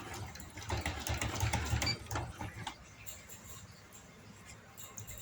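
Palazzo pants are stitched on a domestic sewing machine in a soft, quick run of whirring and clicking that lasts about two seconds, then fades to quiet room tone.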